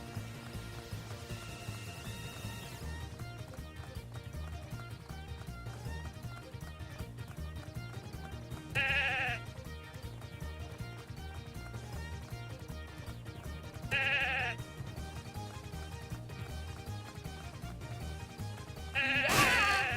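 Sheep bleat three times at intervals over a steady electronic game soundtrack with a pulsing low beat.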